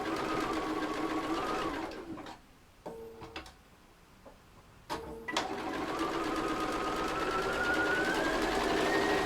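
Sewing machine stitching around the curved top of a fabric bunny head, a steady close whirring run that stops twice for short pauses as the fabric is turned, then starts again and continues.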